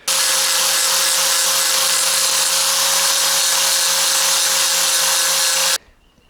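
A power sander grinds steadily across old house planks, a loud, unbroken whine with a constant hum that stops abruptly near the end.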